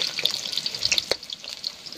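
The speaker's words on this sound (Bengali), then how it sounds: "প্রথমে আলু ভাজি দিচ্ছি।" Potatoes frying in hot oil in a large kadai at an outdoor camping picnic, a close, steady crackling sizzle sprinkled with sharp pops and spits throughout, with no voices.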